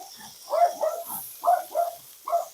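Dogs bark at people walking down the street, a few short muffled barks and growly yaps in irregular bursts, moderately close and fairly quiet, with no talking.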